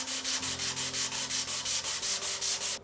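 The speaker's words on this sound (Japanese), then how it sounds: "あとはこの400番っていう細かいやつで、コーヒーの棚板ちょっとやすっていきたいと思います" A wooden shelf board freshly coated with oil stain is sanded by hand with fine 400-grit sandpaper. About a dozen even back-and-forth rubbing strokes sound close and clear in a steady rhythm.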